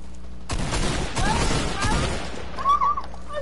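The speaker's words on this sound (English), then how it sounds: "I'm getting shot." Video game gunfire bursts out as a rapid volley of shots and booms, loud and dense for a few seconds, with a voice chattering over the noise.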